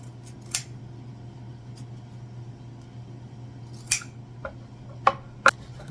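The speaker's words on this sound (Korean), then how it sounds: "가위로 꼬랑지부터 자르고" Kitchen scissors snip the fins and tail off a dried pollock, a handful of sharp, separate clicks and crunchy cuts spaced irregularly over a low steady hum in a quiet room.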